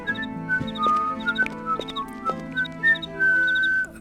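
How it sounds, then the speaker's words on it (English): Iolo, a character in the video game Ultima IX: Ascension, whistles like a bird, sending out a run of short chirpy high notes and a few longer held tones over a soft game backdrop. "He's perched and he's whistling."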